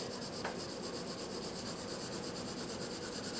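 Colored pencil strokes drawn side to side across paper while layering color, a steady soft scratchy rubbing that runs continuously and close up, with no talking.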